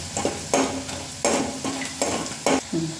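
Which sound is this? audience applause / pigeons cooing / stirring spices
stirring spices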